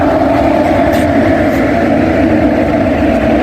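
A train's engine coach stands at Shalimar station in Kolkata, giving off a loud, steady low rumble and hum that never lets up, with a faint hiss over it.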